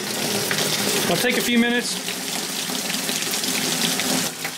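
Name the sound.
water draining from plumbing pipes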